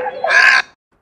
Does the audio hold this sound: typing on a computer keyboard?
no